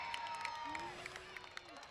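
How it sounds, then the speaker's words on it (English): A crowd cheering and clapping at a Surf League Round 3 surf competition, a broad distant roar with whistles cutting through, heard under a commentator's talk. "the crowd's gone absolutely berserk"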